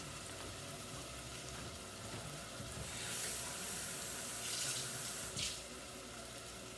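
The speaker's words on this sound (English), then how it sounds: "I'm going to add some water to this bowl here" Tap water runs into a bowl in a home kitchen as meatballs and sauce are prepared, a steady soft splashing stream that swells louder for a few seconds, with no one talking.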